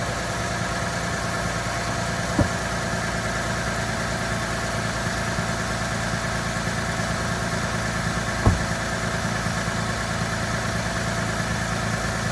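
A car engine idles steadily after an exhaust replacement, giving a continuous, fairly quiet low rumble with two faint, brief clicks partway through and no talking.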